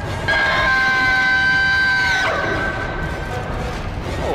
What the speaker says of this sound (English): Oh, hear it scream.